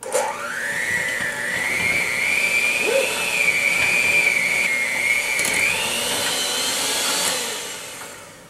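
A handheld electric mixer on high speed whirs loudly while mixing stuffed shell filling. Its whine rises in pitch at the start, holds steady, climbs again near the end, then fades out.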